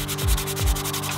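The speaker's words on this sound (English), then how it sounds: "Sanding down the mount as well." Steady rhythmic sanding on metal, a gritty scraping that sweeps back and forth in repeated strokes, close and continuous with no voices.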